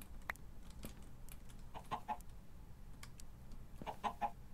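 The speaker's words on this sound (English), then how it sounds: "I think it's that chicken." Faint, sparse clucks from a chicken in Minecraft come in a few soft bursts over quiet background clicks and ambient noise.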